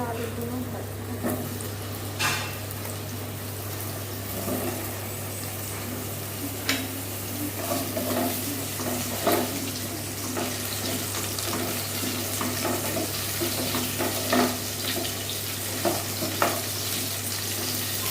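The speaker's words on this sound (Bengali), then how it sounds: "এবার আলুগুলো ভাজবো।" Potatoes frying in a pan during mutton kosha cooking, a constant close sizzle with repeated scraping and clinking of a spatula stirring, and a steady low hum underneath.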